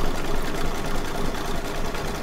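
An embroidery machine stitching fabric runs in a steady, continuous close-up hum and rapid needle chatter, loud and unbroken, with no voices over it.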